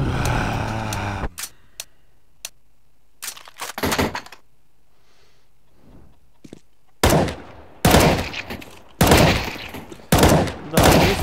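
Gunfire in the video game CS:GO, sharp loud shots in irregular bursts, some paired in quick double taps, separated by quiet gaps, with a voice talking briefly at the start.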